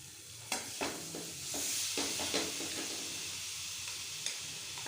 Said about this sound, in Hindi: अब मैं इसके अंदर चिकन डाल रही हूँ, जो मैंने चिकन आपके सामने मैरिनेट की है